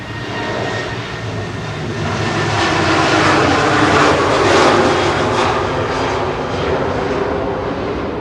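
A Ryanair airliner departing Manchester for Katowice thunders past, its engine roar swelling to a loud peak mid-way before slowly fading, with no voices over it.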